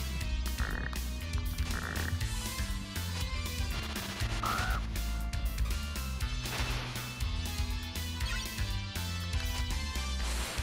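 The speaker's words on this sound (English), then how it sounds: "God, the frogs are piling up." Frogs croaking in the game Castlevania Rondo of Blood, short repeated croaks and game effects over a continuous looping music track.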